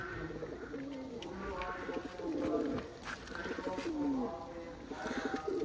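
High-flying pigeons coo in repeated low, rolling calls close by, with a few faint chirps and background rustling.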